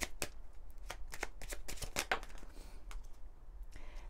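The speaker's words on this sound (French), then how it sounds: "j'ai envie de prendre le petit oracle, message de vos guides. Alors on va prendre une carte générale," A deck of oracle cards being shuffled up close: a rapid run of crisp riffling flutters and slaps, with a short softer swish near the end.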